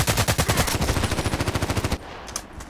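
SVU-AS automatic sniper rifle in the shooter game Contract Wars, firing a fast, loud, close burst of rapid shots for about two seconds before it stops, leaving a faint ringing tail.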